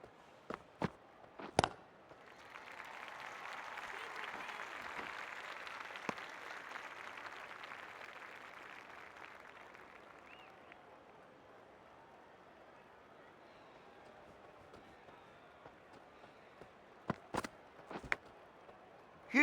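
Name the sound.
crowd applause for batter coming in at cricket match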